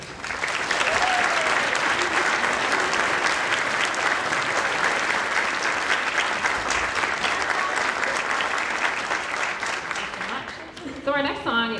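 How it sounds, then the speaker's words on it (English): Sustained, loud audience applause fills a middle school winter choral concert hall, a dense steady clapping that carries on for several seconds before thinning toward the end, where a faint voice or tone emerges. "Come on down so they can give you another round of applause."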